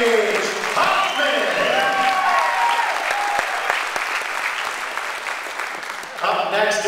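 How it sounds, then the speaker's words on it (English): A volleyball crowd at a Seattle Pacific senior day bursts into loud, sustained applause with whistles and cheers, a dense roar of clapping that holds steady for several seconds before dipping briefly and surging again. "Ladies and gentlemen, the crowd, round of applause for number"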